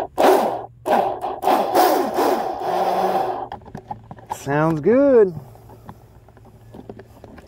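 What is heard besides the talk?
plastic RC boat on water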